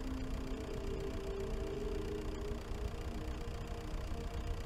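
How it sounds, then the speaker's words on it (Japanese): Tractor engine idling in a video game, a steady low mechanical drone with a faint humming tone, continuous and fairly quiet throughout with no voices. "トラクター、トラクターやんけ。"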